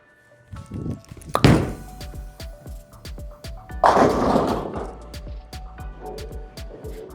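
Motiv Lethal Venom bowling ball rolled down a 42 ft Kegel Chromium oil pattern at a bowling alley: a low rumble builds over the lane, then a loud crash of pins near the middle, with a second burst of clatter a few seconds later amid alley ambience.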